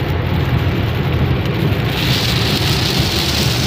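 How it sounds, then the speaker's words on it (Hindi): Heavy rain pours down steadily, a dense, continuous roar with a low rumble underneath and no voices. "बारिश भी इतनी तेज आ रही है"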